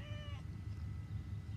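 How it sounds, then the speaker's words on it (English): A single close cat meow, drawn out and falling in pitch, over a low rumbling background hum. "Why is there a cat meowing?"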